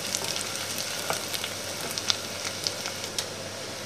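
Finely chopped shallots browning in butter in a pan, with a steady close sizzle dotted with small pops and crackles.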